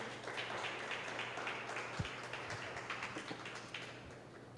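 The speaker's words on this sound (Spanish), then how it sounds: "Dele un aplauso al Señor" A church congregation applauds during a Spanish-language service, heard as fairly quiet, diffuse clapping from a crowd at some distance, with a few sharper close claps standing out.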